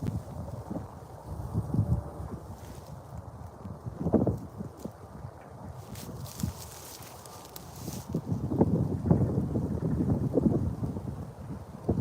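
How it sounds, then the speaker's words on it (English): Strong gusty wind buffets the microphone outdoors beside a pond near Nickel Creek, with low rumbling bursts around 4 seconds and a sustained heavier gust in the last third. "Super windy."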